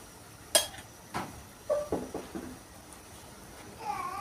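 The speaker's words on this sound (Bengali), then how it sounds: "চাউলটাকে একটু ভালো করে নাড়াচাড়া করে দিচ্ছি" Rice for tehari stirred in a pot, a handful of spaced spoon scrapes and clinks against the metal over a low steady background, close and moderately quiet.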